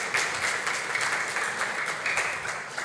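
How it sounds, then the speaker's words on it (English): Church congregation applauding the Bible readers, a full, steady burst of clapping from many hands in a hall, sustained and fairly close, with no voices over it. "can we just give them a round of applause?"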